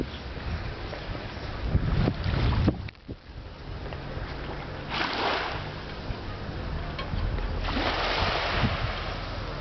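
Waves wash in at Ornos Beach on Mykonos, Greece, with a gusty outdoor rush of surf and wind buffeting the microphone, swelling and fading in a few loud bursts.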